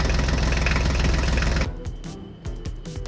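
A Ford tractor engine runs with a loud, rapid knocking chug for the first half, then drops away to quieter clattering thumps and mechanical noise.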